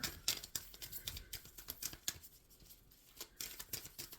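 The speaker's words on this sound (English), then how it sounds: "Shuffling for Taurus." Tarot cards are shuffled in quick bursts of crisp riffling and slapping, irregular in rhythm, close by and with no talking.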